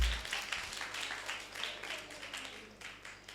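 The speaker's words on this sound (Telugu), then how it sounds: "మీకు మీరు గట్టిగా క్లాప్స్ కొట్టుకోండి ఒకసారి" Children clapping loudly together at a vocational Bible school, a brief burst of dense applause that fades out after a few seconds.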